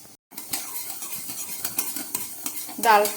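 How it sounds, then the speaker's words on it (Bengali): Mung dal dry-roasting in a pan over a low flame, stirred steadily, giving repeated scraping and rattling strokes of the spoon against the pan with a faint sizzle, close and moderately loud, with no talking. "ডালটাকে একদম গ্যাস কম করে খুব ভালো করে এইভাবে নেড়ে ভেজে নিতে হবে"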